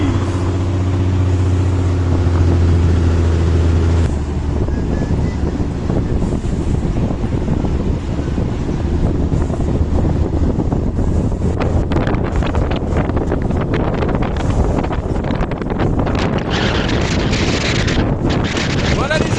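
Strong seashore wind at Cabo Polonio, Uruguay, buffets and roars across the microphone for the whole stretch, a loud, continuous rushing with a low engine-like rumble early on.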